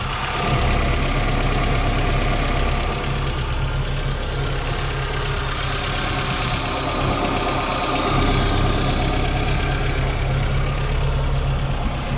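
A 1973 Audi 100 LS engine idles steadily up close, a continuous low rumble with a slightly uneven, knocking pulse that holds at an even level throughout, with no talking.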